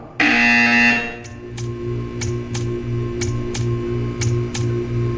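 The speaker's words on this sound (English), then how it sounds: "You will hear a buzzer." A loud electronic buzzer from the video game Portal 2 blares for about a second, then a rhythmic series of ticking pulses and tones repeats steadily afterward.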